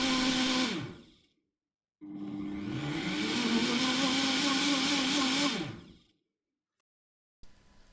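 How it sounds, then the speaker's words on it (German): Kitchen blender whirring chocolate pudding powder ingredients, with a short burst that winds down, a pause, then a longer steady high-pitched run that spins down again, and a brief restart at the end; loud and close, with no talk. "kommt natürlich wieder alles in deinen Mixer, sodass sich die Zutaten richtig schön miteinander verbinden können."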